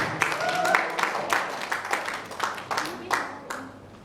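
Scattered, uneven claps from a small group at a school presentation, a handful of sharp hand slaps spread over a few seconds with background chatter and a brief tone.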